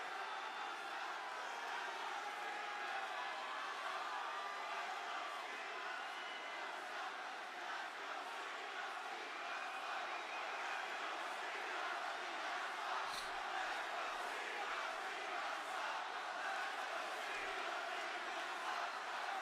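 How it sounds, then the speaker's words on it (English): A wrestling arena crowd roars and cheers for John Cena at a SmackDown event, a dense, steady wall of distant voices filling the whole stretch with little rise or fall. "This crowd's all over the place."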